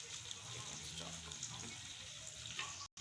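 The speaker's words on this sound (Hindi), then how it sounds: "अब हम इसमें चिकन स्टॉक ऐड कर रहे हैं।" Chicken stock pours into a pot of Afghani Kabuli pulao, a steady close watery splash and hiss with faint sizzling that runs throughout, with no one speaking.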